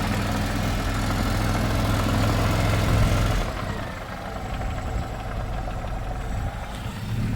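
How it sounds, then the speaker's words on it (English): Classic Mini engine idling close by, a steady low rumble that drops slightly in level and smooths out about halfway through, with no voices over it. "That made the engine sound a bit smoother."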